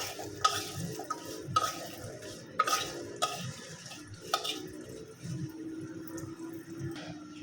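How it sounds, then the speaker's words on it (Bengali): Winter vegetables fry in oil in a pan while being stirred, a soft low sizzle under repeated light clinks and scrapes of a utensil against the pan, fairly quiet and close. "এটা লাল লাল করে ভাজবো"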